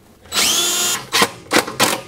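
A power drill driving screws whirs for about half a second, then gives three quick short bursts, loud and close, with no talking.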